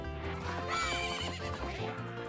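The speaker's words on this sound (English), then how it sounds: "I think we all hate horse racing in this game." Horse neighing and hoof clip-clop from the horse racing in the video game The Legend of Zelda: Majora's Mask, continuous game sound with music layered under it.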